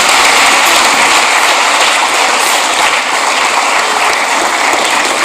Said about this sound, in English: Let's keep clapping for him.